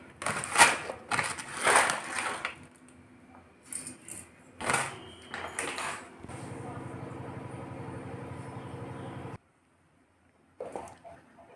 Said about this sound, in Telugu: ఇలా మిక్సీ పట్టుకోవాలండి కచ్చాపచ్చాగా.